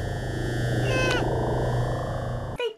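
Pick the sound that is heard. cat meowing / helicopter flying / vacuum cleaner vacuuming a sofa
cat meowing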